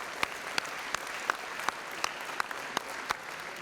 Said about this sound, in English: Please give them a round of applause for supporting this.